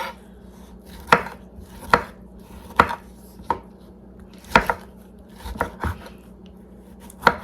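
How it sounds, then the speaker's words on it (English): A whole washed tomato chopped with a knife on a board, about ten sharp separate knocks at uneven intervals, close and fairly quiet against a faint background hum. "So this is a whole tomato. I've already washed it, and I'm going to chop it up."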